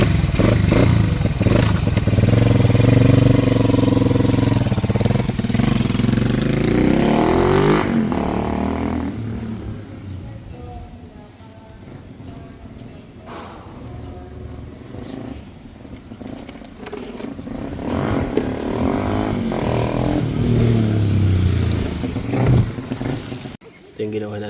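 Yamaha SZ 150 motorcycle with a modified clutch cable on a test drive, its engine revving loudly at first, then dropping to a quieter running note before building again, with people talking nearby.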